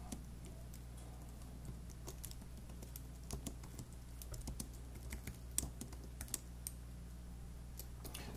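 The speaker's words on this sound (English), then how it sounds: "So we're gonna start typing." Close-up typing on a computer keyboard: a quick, irregular stream of light key clicks and taps over a low steady hum, with occasional heavier strokes.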